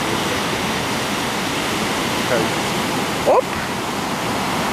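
Ocean surf rolls onto a crowded beach where people fish from the shore, a steady broadband wash of waves running throughout, with a short burst of voices near the end.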